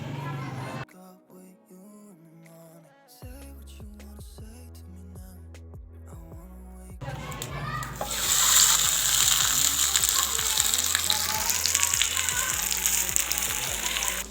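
Vegetable paratha frying in oil in a hot pan, a steady loud sizzle that swells midway after quieter pan handling and a low background tone.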